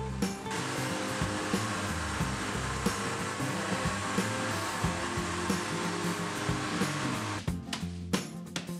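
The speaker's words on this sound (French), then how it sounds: "on continue de placer la plaque vibrante" A vibrating plate compactor runs steadily on a gravel ventilation base during a home renovation. The engine drone and vibration stay loud and constant, then break into a few uneven thuds at the end.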